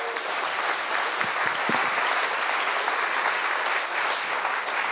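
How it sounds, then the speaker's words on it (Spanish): A church congregation applauds together, dense sustained clapping that fills the room steadily from start to finish with no talk over it. "Es un aplauso."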